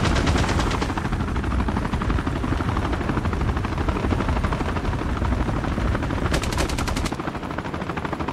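Helicopter rotor noise runs throughout a Call of Duty match, with dense rapid machine-gun bursts and gunfire layered over it, loud and continuous from start to finish.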